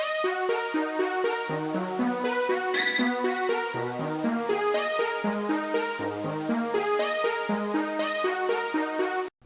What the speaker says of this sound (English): the Arpeggiator sounds like this.